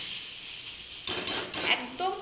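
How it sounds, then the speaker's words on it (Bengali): Bora fritters frying gently in a small amount of oil in a pan, giving a soft, steady sizzle that swells midway with a few light scraping and stirring clicks, close and quiet. "একদম কম তেলে হালকা করে আস্তে ধীরে সুন্দর করে এটাকে ভেজে নিতে হবে"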